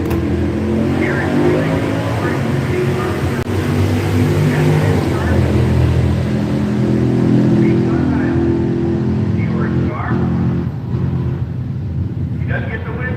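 Engines from a 1968 Camaro and its rival roar and rev at Seattle International Raceway drag racing, a steady loud rumble throughout with a track announcer talking over it.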